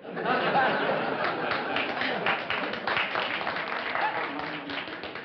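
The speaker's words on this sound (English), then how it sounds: "I didn't see any necessity for applause at that moment." A studio audience at a vintage TV quiz show applauds, with scattered clapping mixed with chuckles and murmured chatter that stays fairly steady before easing off.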